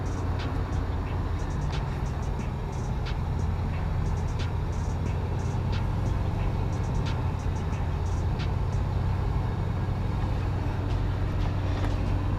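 An LS-engined Nova drives down the road on its first outing of the year, with a continuous rumble of engine and road noise inside the car and occasional faint ticks and rattles.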